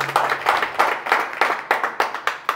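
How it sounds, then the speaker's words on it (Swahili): Steady rhythmic clapping from a crowd for a party chairman at a political gathering, about ten even claps in quick succession, fairly close and on its own without talk. "Mpigeni tena makofi mwenyekiti."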